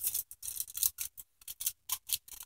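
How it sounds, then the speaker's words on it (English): Scissors snip through paper to cut out a small square piece, a rapid series of short crisp cuts in an uneven rhythm, close up with no talking. "So all I have to do is cut this out."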